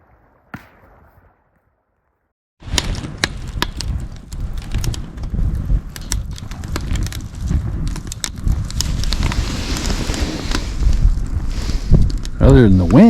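Strong wind buffets the microphone beside a river at a winter campsite, a steady loud roar of gusting noise with brief quiet at the start, and a voice speaks briefly over it.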